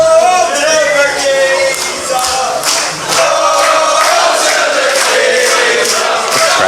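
A wrestling crowd at a UKPW show cheers and shouts for Tommy Tanner in a steady, loud roar of many voices, with rising chants and scattered yells across the whole stretch.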